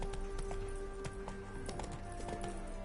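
Horse hooves clip-clopping in The Witcher 3 video game, a steady, moderately close trot under sustained game music tones.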